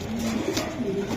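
Racing pigeon cooing softly at close range in a loft cage, a few low murmuring coos over steady background noise.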